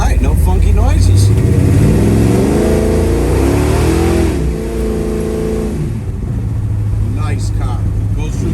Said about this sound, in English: Goes through the gears really well.